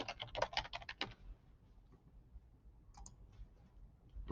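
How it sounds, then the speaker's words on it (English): Quick bursts of keystrokes on a computer keyboard, a fast clattering run at first, then a pause and a few scattered taps, close and fairly quiet. "I'll just type Martin Luther King."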